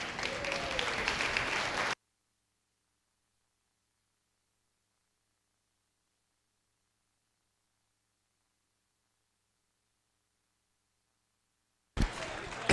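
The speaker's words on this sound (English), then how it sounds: "I want you guys to cheer just as like it's all your own family here" About two seconds of crowd applause and cheering at a market and breeding goat show, then silence, with a brief burst of noise at the very end.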